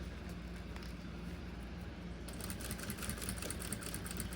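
A sewing machine runs slowly along a seam of a fabric document holder, a steady, even mechanical hum throughout, close and without pauses.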